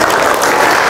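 Group of students clapping together in a classroom concentration clapping game, a dense, steady burst of many hands at close range with no talk, brief and continuous.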